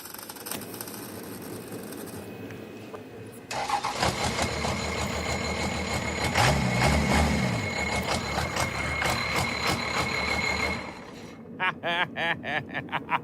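A diesel engine swapped into a Ford Torino wagon drag car cranks, catches and settles into a loud, steady running idle close by, after a quieter stretch, with revs and sputters near the end.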